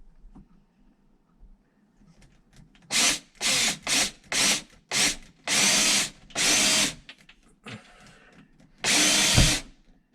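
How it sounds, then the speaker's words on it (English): Short bursts from a power drill as a bit bores holes at pencil marks for a pantry upgrade, about eight separate whirring runs of a second or less, close and loud, with quiet gaps between. "Because I wallowed these out with the drill bit a little bit"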